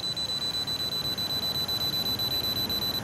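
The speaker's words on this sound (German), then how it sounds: "und gleichmäßig reinblasen, bis es nicht mehr piepst" Police breathalyzer beeping steadily while someone blows into it; a continuous high electronic tone pulses rapidly and evenly over a breathy hiss, with no talking.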